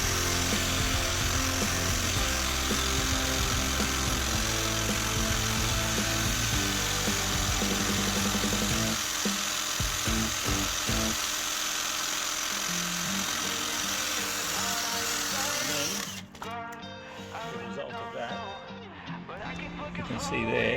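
A power buffer whirs loudly and steadily against a Victory Vegas motorbike alloy wheel loaded with grease, running continuously for most of the stretch before winding down, with someone talking over it.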